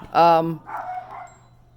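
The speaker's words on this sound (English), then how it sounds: "I apologize for my dogs. They're out, yeah, and they're going to just bark now." Dogs bark at home: one loud, harmonic bark close by, then a couple of softer, yelping barks trailing off over a low steady hum.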